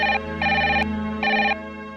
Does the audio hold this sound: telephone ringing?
yes